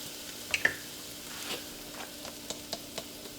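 Grated ginger, powdered black pepper and cinnamon sizzling in a pan for Ayurvedic khichdi, a faint steady fry with a few soft crackles and light stirring taps, no voices.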